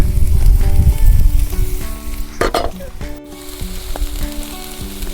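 Chopped chai wild greens from the Sahyadri hills hit a hot pan and sizzle, with stirring and light clatter as they fry; the sound is loud at first and steady, without talk.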